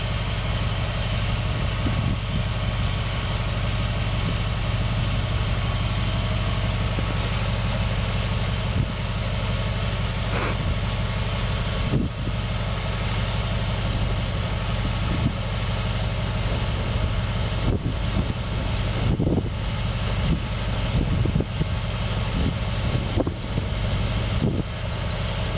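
A vehicle engine idles steadily at close range, a loud continuous low rumble with a few brief surges as it is revved, and no talking.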